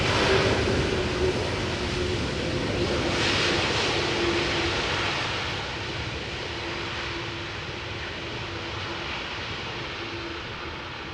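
Airbus A330 airliner at Amsterdam Schiphol after landing, its engines giving a broad, steady roar with a faint whine that slowly eases and fades a little over several seconds.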